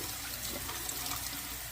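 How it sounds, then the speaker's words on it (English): Rice being rinsed in water while cooking a butter chicken and mushroom curry: a continuous, quiet wash of running, splashing water, with no voices over it. "Let's rinse our rice."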